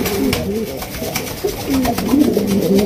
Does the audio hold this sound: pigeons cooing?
yes